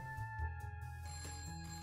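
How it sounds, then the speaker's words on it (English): An office telephone rings with a steady electronic chime and overlapping tones that stay faint and continuous, with no voices. "The phone is still ringing."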